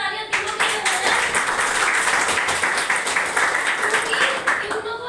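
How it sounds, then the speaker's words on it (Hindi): Audience applause and clapping at a gathering, a steady dense wash of many hands that runs for several seconds and then tapers, with some voices mixed in. "तो एक बार जोरदार तालियां तीनों के लिए हो जाए"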